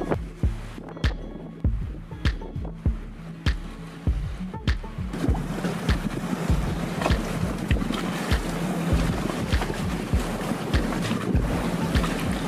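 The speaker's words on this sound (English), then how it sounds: "The wind started really picking up." Gale-force wind, gusting to about 43 knots, buffets a boat at anchor in Friday Harbor in the San Juan Islands. Sharp knocks repeat every half second or so, then a steady, close roar of wind and water builds and holds.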